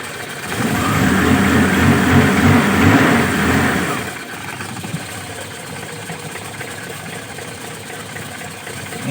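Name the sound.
car engine running and revving after TCI pulser installation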